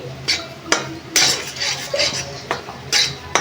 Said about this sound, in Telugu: ఈ శనగపిండిని కొంచెం కొంచెంగా పోసుకుంటూ కలుపుకుందాము